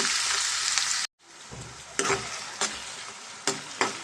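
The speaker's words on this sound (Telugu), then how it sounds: "మనం కట్ చేసుకున్న ఉల్లిపాయ పచ్చిమిర్చి దీంట్లో వేసేసుకుందాం." Chopped onions and green chillies frying in hot oil for a chicken curry, a bright steady sizzle that cuts out briefly and returns with stirring clatters of a spoon against the pan.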